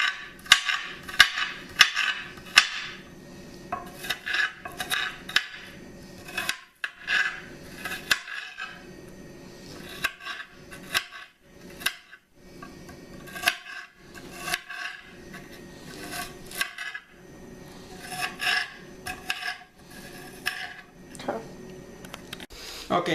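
A knife chops an onion on a cutting board while making stuffed bell peppers, giving bursts of quick, close, sharp knocks in uneven runs with brief pauses throughout.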